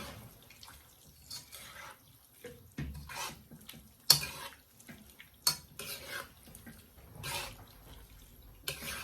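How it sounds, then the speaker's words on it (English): Curry shrimp simmering in coconut milk gets stirred in a pot, a spoon scraping and clinking against the metal in irregular, fairly quiet strokes with short pauses between them and no talking. "Now you give that a stir, so all the prawns can soak up all that nice curry, gravy juice"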